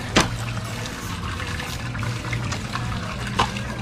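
Water pours from a Jetmatic hand pump whose flow keeps cutting out, giving a steady close splashing gush with a low hum underneath and a couple of sharp knocks, with no voices.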